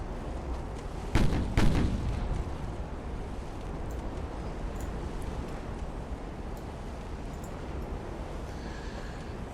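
Naval guns firing during a destroyer engagement in the game Ultimate Admiral: Dreadnoughts; two heavy booming shots in close succession early on, then a low rumbling ambient roar of the sea battle.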